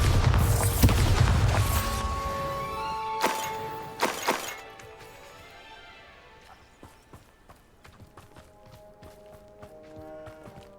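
Bombarda explosion spells cast in Hogwarts Legacy: two sharp, loud blasts a second apart, each ringing out over fading tonal game music and light clicking sounds.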